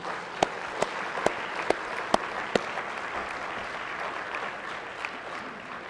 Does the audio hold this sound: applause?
yes